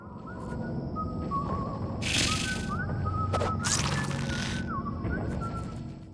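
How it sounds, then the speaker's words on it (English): Thin, sliding whistles drift over a steady low hum in the video game Deadly Creatures, with two loud bursts of hissing noise cutting in partway through. "I don't like the sound of that."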